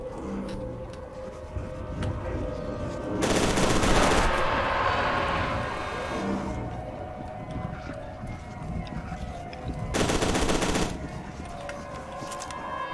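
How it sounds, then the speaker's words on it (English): Gunfire in the video game FEAR 2 Project Origin comes as two loud sustained bursts of rapid automatic fire over a constant rumbling game background, with a voice heard faintly in the mix. "A lot of bullets."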